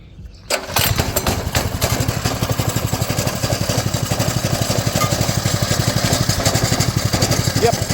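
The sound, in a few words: 200cc go kart engine starting and idling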